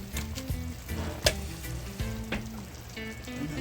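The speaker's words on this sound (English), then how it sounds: "and I'm gonna stir it up again." Corn on the cob stirred in a boiling soup pot for Jamaican pumpkin soup, a few scraping knocks of a spoon against the pot over a steady bubbling sizzle, close and alone without voices.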